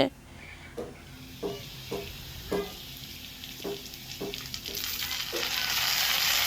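Onions and spice paste fry in a pan for katla fish curry with a soft sizzle that swells louder toward the end, punctuated by spaced spoon scrapes.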